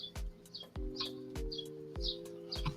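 Birds chirp outdoors in short high tweets, repeated about twice a second, over steady low hum and sharp regular clicks.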